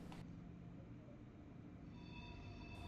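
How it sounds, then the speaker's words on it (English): A Swiss ICN tilting express train rumbles in at a distance, a low steady roar with faint high tonal whine building toward the end. "But here our train comes, one of the Swiss ICN trains."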